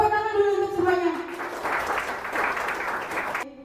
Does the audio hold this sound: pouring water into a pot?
no